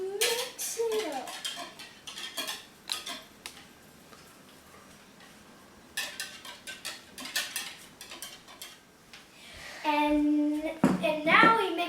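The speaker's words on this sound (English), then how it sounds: "And now we mix the wet into the dry mixture." Batter for sweet cornbread muffins being mixed in a bowl, wet ingredients with oil folded into the dry, heard as irregular clinks and scrapes of a utensil against the bowl, with a voice and other kitchen noise between the strokes.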